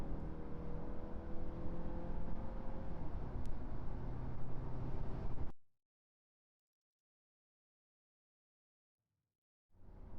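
Car sound effect from a sound library, a steady mono engine drone with a tonal hum running for about five seconds, then cutting abruptly to silence with a faint blip near the end.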